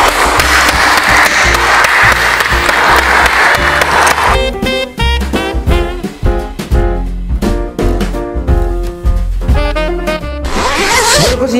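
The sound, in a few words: applause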